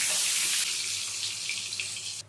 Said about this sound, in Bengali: এবার এই তেলের মধ্যে ডিমগুলো দিয়ে ডিমগুলো ভেজে নেব।